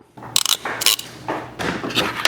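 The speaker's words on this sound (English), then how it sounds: "So I'm going to crimp the red cable to the red" A crimping tool squeezes a connector onto a red power cable for ditch lights on a 2024+ Ford Ranger Raptor, giving a few quick close clicks and ratcheting crunches in short bursts.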